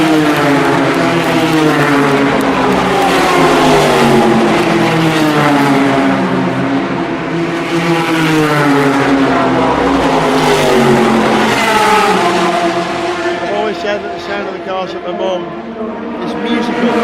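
GT race cars roar past at Le Mans, loud engines rising and falling continuously as several cars pass close by in succession, their pitch shifting with each pass.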